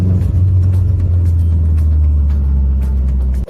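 A Subaru engine rumbles and revs through an exhaust valve with a deep, throaty exhaust note, held steady close by before cutting off abruptly near the end.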